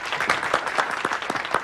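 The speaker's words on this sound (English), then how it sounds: "Please continue your applause for all the students" Audience applauding students at a school pride display, a dense run of hand claps with distinct individual claps standing out, steady and fairly close throughout.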